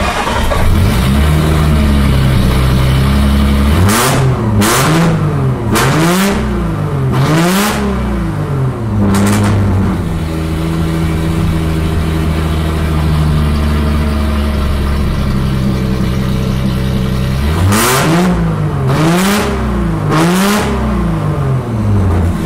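A BMW E46 M3 fitted with a swapped Nissan engine revs repeatedly up and down in loud, close bursts over a steady running note, with no talking.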